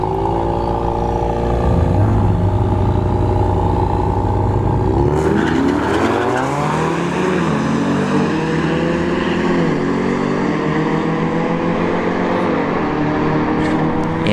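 An SRT Durango launches down a drag strip at a test-and-tune session, its engine roaring loud and steady with rising pitch as it pulls away, dense engine noise filling the whole stretch.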